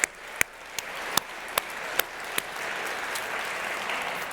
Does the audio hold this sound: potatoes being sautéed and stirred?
no